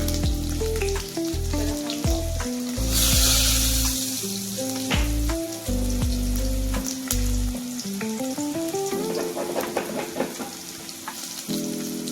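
Cumin, garlic and turmeric sizzle loudly in a hot pan for a village-style Marathi greens dish, a steady crackling fry with occasional stirring scrapes.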